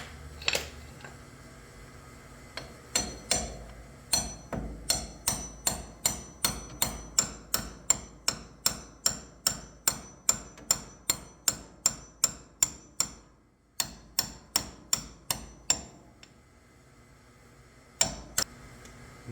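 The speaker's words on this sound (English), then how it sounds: "we're gonna have to find a socket to tap that in" Repeated sharp metallic taps from a socket driving an axle (differential) seal into place on a Massimo T-Boss 550 UTV, a steady run of dozens of close, evenly spaced strikes with a brief pause near the end and a couple more hits.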